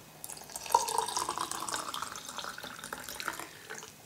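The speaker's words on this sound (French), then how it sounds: "en ayant bu directement dans le verre, on peut ensuite recompléter avec de l'eau" Water poured from close by to top up a glass of tea, a steady splashing stream running for about three and a half seconds with no voices.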